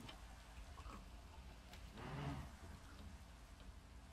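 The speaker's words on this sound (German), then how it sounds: "Und dann regnet es auch noch hier." Rain falling in the video game Minecraft, a faint, steady patter throughout that swells slightly midway.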